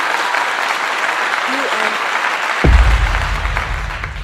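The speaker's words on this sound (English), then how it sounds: "let me give you a clap for that" A single person claps hands a few times close to the microphone, sharp and loud, over a softer crowd-like background.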